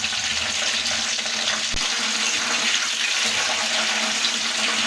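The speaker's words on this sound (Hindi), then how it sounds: "ये हमारे इसी तरीक़े से फ्राई होते रहेंगे" Chicken tempura pieces fry in hot oil, giving a dense, steady crackling hiss that fills the whole stretch without a break, with a single faint click partway through.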